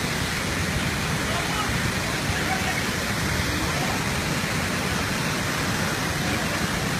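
Nafakhum waterfall in Bangladesh, a powerful torrent of water rushing steadily, a dense continuous roar with no breaks.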